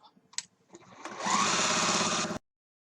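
A sewing machine stitches a quilt strip onto a square, first with a few light clicks and taps, then a steady, close, whirring run of about a second before it stops abruptly. No one speaks.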